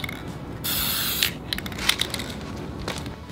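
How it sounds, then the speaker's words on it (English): Polyurethane finish sprayed onto a handmade wooden box: a steady hiss of spray for about half a second, followed by several short, sharp bursts and clicks from the sprayer, close and fairly loud, with no talking. "I just sprayed it with some polyurethane"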